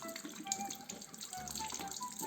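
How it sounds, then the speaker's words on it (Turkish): Running tap water splashes steadily over hands being rinsed at a sink, a continuous close, moderate wash. "Şimdi elimizi durulayalım. Su ile bol su ile"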